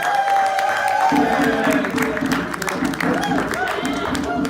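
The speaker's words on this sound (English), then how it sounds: "Everybody applaud now." An audience at a Kwanzaa celebration bursts into clapping and cheering. It starts after a sustained vocal tone, then dense hand claps and crowd noise carry on loudly to the end, with voices mixed in.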